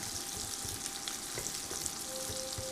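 Food frying in a cast iron skillet on an induction burner, a steady close sizzle with occasional stirring scrapes running throughout, no talking.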